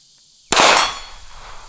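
A single shot from a Tradecraft Armament ported Glock 43X subcompact pistol strikes a steel target 100 yards away, giving one sharp, loud crack and metallic clang that rings briefly and fades.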